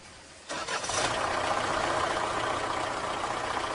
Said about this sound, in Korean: 여러분들이 만든 봉고 코치의 엔진 소리입니다